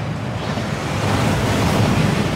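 A waterfall in Hogwarts Legacy roars as a continuous, dense rushing wash of water, steady and fairly loud with no speech.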